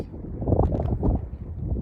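Strong gusts buffet the microphone in open country in northern Argentina, a dense low rumbling roar that surges and dips continuously throughout without a break.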